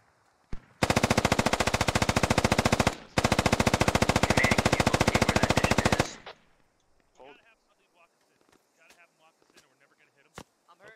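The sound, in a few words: DShK heavy machine gun firing, from a video game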